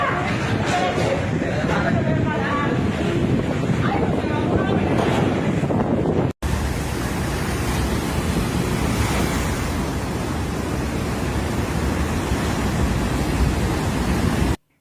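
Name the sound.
hurricane wind and raging sea waves hitting the seawall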